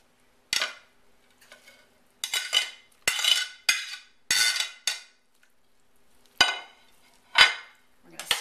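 Shredded beef and its juices spooned back into a crock pot, a series of sharp metallic clanks and scrapes of a utensil against the pot, irregular and close, with quiet gaps between.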